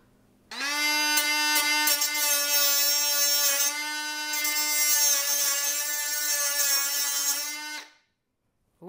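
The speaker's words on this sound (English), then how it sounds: "So I'm gonna use this little grinder deal to try to cut these a little bit." A small handheld grinder cuts through an orchid basket while a staghorn fern is being repotted, giving a steady high-pitched whine that holds for about seven seconds close up, then cuts off abruptly.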